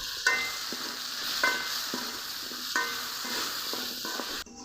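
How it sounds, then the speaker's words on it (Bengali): Potatoes frying in hot oil with salt and turmeric for a vegetarian vegetable dish: a steady close sizzle broken by a few sharp stirring scrapes about every second and a half. "আলুর মধ্যে সামান্য লবণ আর হলুদ দিয়ে ভেজে নিতে হবে"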